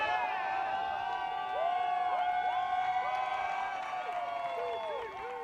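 A gallery crowd at the 2024 United States Women's Disc Golf Championships cheers and whoops after a close-to-pin shot on hole 12, with overlapping shouts and some clapping rising and fading at a moderate distance.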